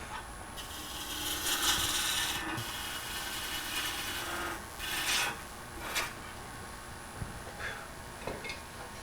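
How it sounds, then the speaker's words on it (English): A gouge rubs its bevel while cutting wood on a lathe during the turning of a two-part vase, a soft, fairly quiet scraping hiss in uneven passes with sharper bursts of shaving noise. "Now I'm using it almost like a spindle gouge or bowl gouge. Bevel rubbing."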